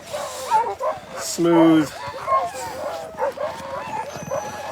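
Sled dogs yipping, whimpering and barking at the start chute of the Copper Basin 2022 race, an excited, overlapping chorus close by, with people talking over it.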